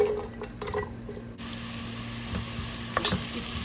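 Chopped onions sizzle in a pan of ghee and cooking oil, with a steady soft frying hiss, a brief stirring clatter early on, and a few scraping spoon sounds near the end, with no talk.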